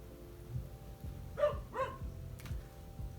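A dog barks twice in quick succession at a moderate distance, clear over a quiet room with faint low thumping in the background.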